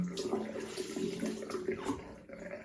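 Water splashes and drips close by as someone rinses their face with a wet flannel and warm water, soft sloshing and wiping sounds continuing without talk.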